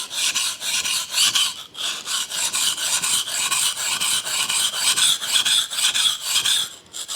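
A knife is sharpened on a sharpening stone, now on its other side: rhythmic, gritty rasping strokes repeat at a steady pace, close and clear, with no talking.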